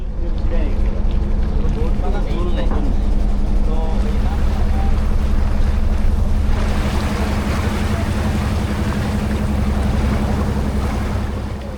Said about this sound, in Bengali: বোটের ইঞ্জিনের শব্দ জানান দিল আমাদের জলযাত্রার সূচনা হয়েছে